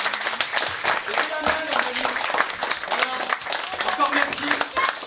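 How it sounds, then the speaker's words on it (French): Audience applause at a school theatre performance of The Wizard of Oz, scattered clapping mixed with voices and stage chatter, moderately loud and steady throughout. "vous pouvez encore l'applaudir"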